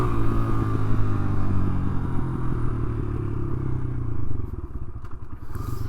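A 2022 Kawasaki KLX motorcycle engine revs hard under throttle, a loud, close, rough mechanical rumble with clattering texture that eases off toward the end.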